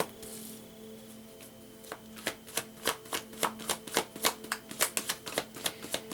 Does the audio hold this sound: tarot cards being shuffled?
yes